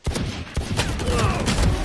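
Pistol fire in the video game Valorant cracks in a rapid, loud series of sharp shots, some overlapping, close and punchy from start to finish.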